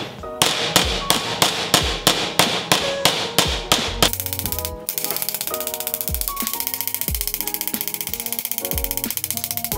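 Steel hammer striking sheet metal to sharpen a formed corner, first in a run of about ten evenly spaced sharp metallic taps, then a denser stream of quicker, lighter ringing blows with some resonant tones, close and loud.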